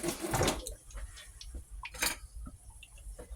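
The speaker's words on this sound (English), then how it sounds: "Rinse my fingers off here." Fingers rinsed under a running kitchen tap while apple fritters are being made: a short, close splash of flowing water with a few light clinks and drips, and no talking.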